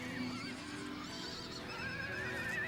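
A frightened filly in the Amazonian marshes whinnies loudly and shrilly, a wavering high neigh over a noisy outdoor background with faint hoof sounds.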